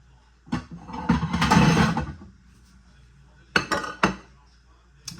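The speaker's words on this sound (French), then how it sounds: "Je vais juste mettre mes petites patates dans une assiette" Spiral potatoes are set onto a plate in a home living room, giving a burst of clinks and scraping, then a couple of sharp, separate clinks after a quiet pause.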